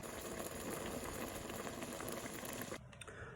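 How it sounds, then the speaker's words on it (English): Vegetarian bolognese sauce simmers in a pan with a steady, close, dense bubbling and popping that thins out slightly at the very end, with no talking. "While that's simmering away"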